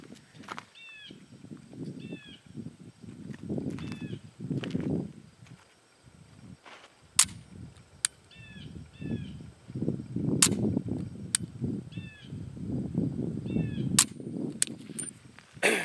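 Double-action dry-fire trigger presses on an unloaded handgun during training, heard as sharp isolated clicks spaced a few seconds apart over a low room rumble and soft background noise.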